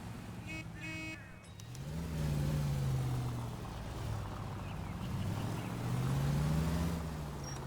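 A car engine in L.A. Noire revs in two long, swelling surges that rise and fall in pitch, loud and close, with a brief electronic chime at the start.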